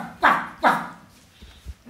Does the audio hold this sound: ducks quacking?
no